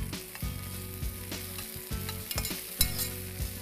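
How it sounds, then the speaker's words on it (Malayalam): Chicken frying in a pan as it is stirred, with a steady sizzle and scraping strokes roughly every half second, heard over tonal background music. "ഈ ചിക്കനും നന്നായി ഫ്രൈ ചെയ്ത് നന്നായി ഇളക്കി കൊടുക്കാം"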